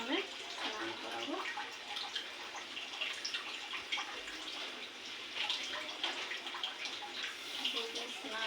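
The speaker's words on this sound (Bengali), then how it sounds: "ঠাকুরকে ওখানে স্নান করাবো।" Water splashes and trickles steadily while a Hindu deity idol is bathed, a continuous close pouring and dripping wash with no pauses.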